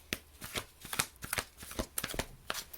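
Archangel Oracle cards are shuffled by hand for a tarot reading with quick, irregular riffling snaps and soft slaps, close and clear, in several rapid bursts with no talking.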